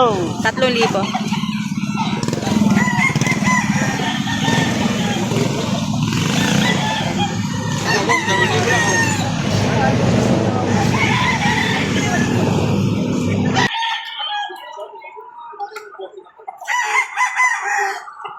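Many chickens cluck and roosters crow loudly and close together in a busy flock at a livestock market in Victoria, Laguna, with people talking in the background; the crowd noise drops out near the end.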